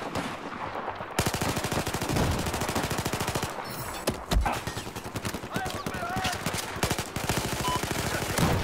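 Gunfire in Battlefield 4 during team deathmatch on the Hainan Resort map rattles out in dense, repeated bursts, loud and up close, with a voice surfacing briefly among the shots.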